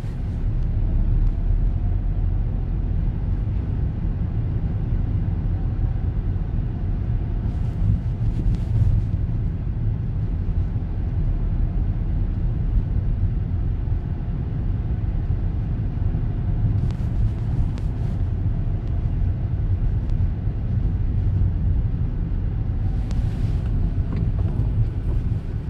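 Car engine and road rumble from inside a moving car as the driver eases on and off the gas, a steady low drone with wind noise throughout and no clear change in pitch.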